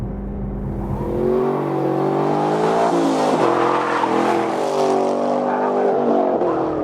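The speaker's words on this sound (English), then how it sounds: "We're doing lap 5 in the Camaro 1LE. It's got the 420 horse V8, pulls really well on the straightaways" A 2013 Chevrolet Camaro SS 1LE with a 420-horsepower V8 laps a race track, its engine droning loud and close with rising and falling revs through the gears, and no talk over it.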